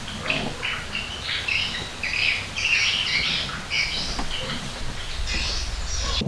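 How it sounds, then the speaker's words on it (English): Birds chirp and squawk in varied calls along a canal off the Mekong River, with leaves rustling, heard at moderate distance over a soft, steady outdoor hush. "you can hear the birds and just the leaves shaking"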